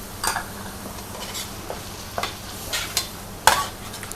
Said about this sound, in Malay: Okey, kita masak hingga daging ni kering ya.